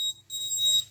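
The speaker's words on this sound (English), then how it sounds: "as well as alarm also on." An ESP32-based air quality monitor's alarm going off, a piercing high electronic tone held for about a second with a brief dip, close and loud over a low hum.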